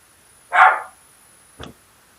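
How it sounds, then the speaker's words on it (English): A dog gives one loud, close bark followed by a second shorter, softer bark about a second later, with quiet in between. "I'm sorry about this dog."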